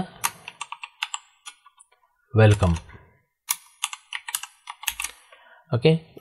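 Someone types a short word on a computer keyboard, a quick scatter of close, crisp key clicks broken by brief pauses, with a few heavier thumps that may be the spacebar or enter key.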